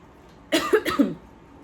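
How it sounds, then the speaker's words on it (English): A single short cough, a couple of rough bursts in quick succession, close by against a quiet background. "I cough"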